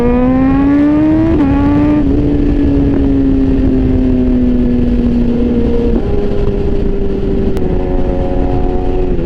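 A Bentley Continental GT with a V10 engine goes by, its loud, close engine drone holding a steady tone that rises, then slides lower and shifts pitch as it passes, with no talking.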